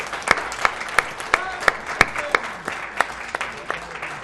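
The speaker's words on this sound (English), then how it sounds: "perhaps a round of applause from the handsome people on and around the couch" A small group claps in sparse, uneven beats, a thin round of applause rather than a full crowd, fairly close, with someone speaking over it, at a live speedrun charity event.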